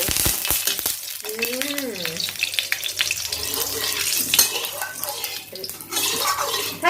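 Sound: oil added to a hot wok for stir-frying rice vermicelli

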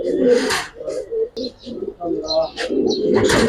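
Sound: pigeons cooing, a pair of pigeons

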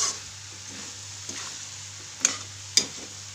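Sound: stirring potatoes with spices in a frying pan

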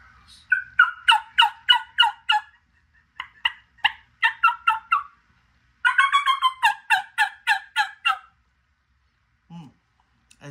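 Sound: turkey mouth call imitating gobbles

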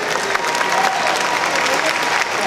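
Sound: audience applause for Orlando Judokai performance

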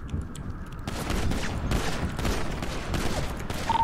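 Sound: gunfire in video game GTA RP

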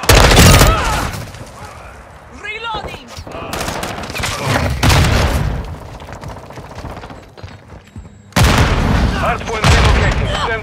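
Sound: flash grenade thrown in video game Call of Duty: Modern Warfare 2

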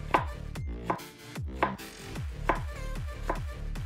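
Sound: knife slicing apple into matchsticks

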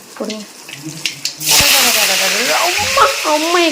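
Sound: curry leaves and onion sizzling in hot oil with fenugreek, mustard

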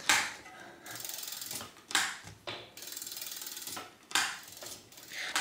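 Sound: tightening barrel adjuster on a vintage bike brake

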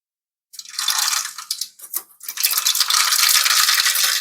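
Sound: oil sizzling while tempering spices

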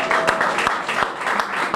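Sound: audience applause at grand opening ceremony

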